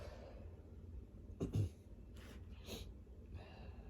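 A person with hay fever sniffles quietly several times in quick, short breaths, close to the microphone against a hushed room.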